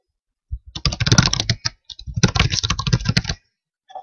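Rapid keystrokes on a computer keyboard as a username and password are entered, two close bursts of quick clicking separated by a short pause, with nothing else in the room.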